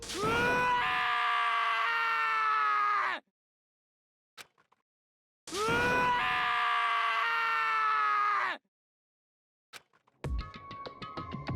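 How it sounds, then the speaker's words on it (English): A video game character in Danganronpa lets out two long, loud, anguished screams, each about three seconds, separated by silence and faint clicks, followed by a brief tonal chime at the end. "As Taka's sad scream invaded our skulls"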